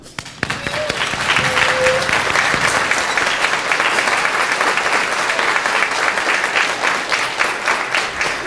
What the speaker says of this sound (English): To the Fig Tree, we applaud you.